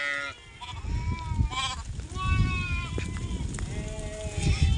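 Goats and sheep bleat repeatedly on a rainy hillside, several animals calling at different pitches, some close and some farther off, over a steady wash of background noise.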